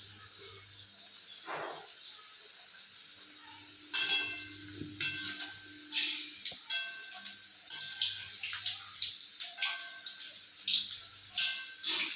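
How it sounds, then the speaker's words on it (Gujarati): Hot oil sizzles steadily with crackling bursts as pieces of muthiya drop in to deep-fry, joined by scattered clinks and stirring scrapes, with no one speaking. "આ તેલ ગરમ થઈ ગયું છે તો હવે આપણે મૂઠિયા તળી લઈએ"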